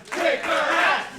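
Wrestling crowd at a live women's match roaring and chanting together, a loud, sustained wall of massed voices swelling and dipping over about a second, with no clear commentary on top.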